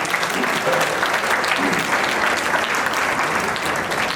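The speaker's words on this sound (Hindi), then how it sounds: "जोर से तालियां" Dense, continuous audience applause fills a hall at a Hindi-language student honors award ceremony, loud and even throughout with no pauses.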